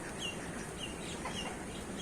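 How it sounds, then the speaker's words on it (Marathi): Faint, short calls of ducks with ducklings sound softly over a low background rumble. "किती बदक आहेत इथं लयच बदक आहेत"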